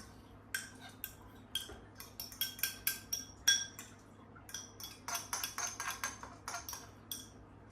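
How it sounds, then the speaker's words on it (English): Pumpkin pie filling being mixed in a large bowl, rapid bursts of utensil clinking and scraping against the bowl in uneven runs, close and fairly crisp over a low steady hum. "Let's mix this all a little bit more in this bigger bowl"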